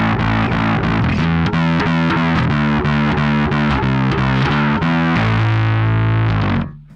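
A Sterling by Music Man StingRay (DarkRay) bass plays single notes through its two-band preamp with EQ boosted then cut, giving loud, thick, gritty sustained notes that end in a fading final note.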